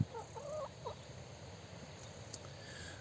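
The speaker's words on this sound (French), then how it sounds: "Mais c'est une poule anglaise, une poule de Sussex" Sussex hens clucking softly in a short burst of a few calls near the start, then quieter low background sounds; faint and fairly close, no speech.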